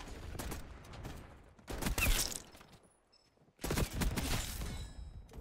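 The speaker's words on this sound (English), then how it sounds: "rapid fire actually is insane on this gun" Rapid bursts of Tanto .22 submachine gun fire in Black Ops 6, two dense loud volleys separated by a brief lull, with sharp crackling shots and mechanical clatter.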